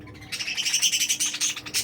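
Budgerigars in a breeding colony chirp in rapid, bright tweets, a close and continuous chatter of overlapping calls.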